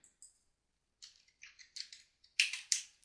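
Soft, crisp keystrokes tap on a computer keyboard in short irregular bursts, starting sparse and growing quicker and a little louder toward the end, with no speech.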